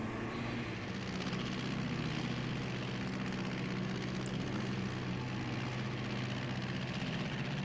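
In The 39 Steps video game, an aeroplane flies over a bare moor as a steady, droning engine and propeller roar. It stays loud and unbroken throughout, with no voices.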